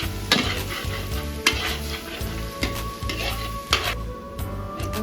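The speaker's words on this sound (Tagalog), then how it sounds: "Tapos, magigisa na tayo ng bawang." Garlic sautéing in hot oil for dinuguan, a bright crackling sizzle with rhythmic stirring strokes and spoon taps against the pan roughly every second, close and loud with a faint steady hum beneath.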